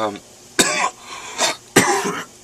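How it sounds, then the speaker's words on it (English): Harsh coughs come close by in a few separate bursts, with a throaty, clearing quality between them. "coughing."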